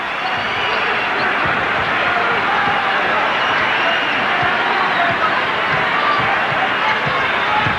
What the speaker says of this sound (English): this crowd's back in it now as the Pistons are making their run at the Sixers late in the third quarter